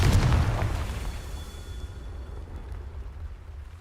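Confringo explosive spell in Hogwarts Legacy, a loud burst with a deep low boom at the start that decays into a fading rumble and crackle.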